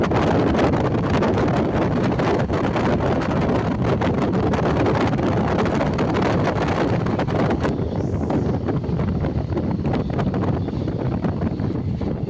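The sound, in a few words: riding inside a local EMU train from Tiruvallur to Avadi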